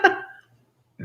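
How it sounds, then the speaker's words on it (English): A single short, close burp erupts right after gulping down water, a quick voiced croak that fades within half a second into near silence before a faint sound at the end. "I feel a burp coming."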